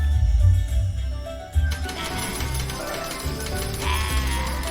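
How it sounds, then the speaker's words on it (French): Cartoon effect of gold coins raining down, a rush of bright jingling and tinkling that starts abruptly and carries on over steady background music. "Il pleut des pièces d'or."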